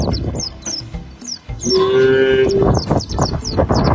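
A toy cow lets out a long, loud electronic moo, with chirpy birdlike toy sounds and other toy noises around it.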